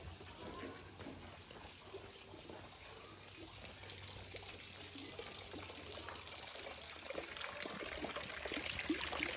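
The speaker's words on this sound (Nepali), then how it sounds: "नेचुरल धारा हो यहाँको। यो 24 घन्टा आइराख्ने पानीहरू हो।" A natural spring spout at a hillside resort in Charikot runs continuously, a soft steady trickle and splash that carries on evenly without pause.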